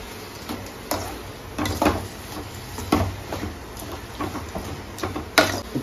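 Onions frying for a chicken dish in a pan are stirred with a utensil, giving soft scraping and occasional clinks over a steady low sizzle, moderately close and fairly quiet.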